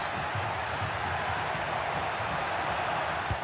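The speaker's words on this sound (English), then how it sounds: "The crowd encouraging him to take his own." A stadium crowd in the FC 25 football video game roars in a dense, continuous wash of cheering and noise, urging on a player at a La Liga match.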